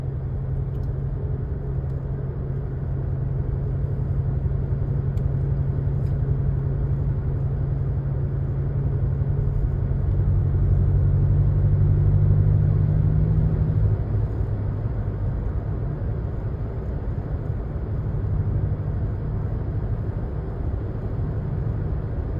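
Steady low traffic rumble at a downtown street intersection on a Monday night around houses, a continuous broadband road-noise wash with a vehicle drone swelling near the middle, no talk.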